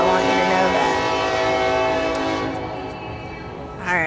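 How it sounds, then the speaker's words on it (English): A passing train blasts its horn loudly and continuously, a rich sustained blare that fades somewhat toward the end before a brief swell, heard close by with no talk over it. "Alright, train. We know you're going"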